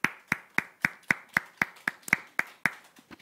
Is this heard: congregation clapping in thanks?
yes